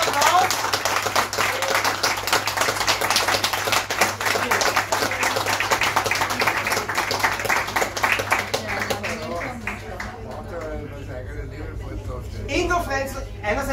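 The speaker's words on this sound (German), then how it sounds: "Einen großen Applaus!" An audience at a short film evening claps steadily, a dense, even patter of hands that carries on for over ten seconds before thinning out, with voices talking over it toward the end.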